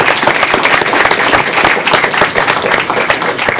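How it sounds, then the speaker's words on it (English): At a Johnson City Board of Commissioners meeting, the room gives loud, close applause, a burst of many hands clapping in a lively, uneven patter throughout. "everybody give him a hand"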